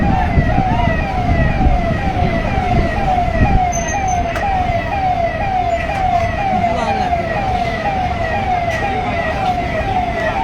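A fire engine's wailing siren rises and falls in steady repeated cycles over continuous road rumble, loud and close throughout, with no one speaking, as fire engines arrive at a burning showroom.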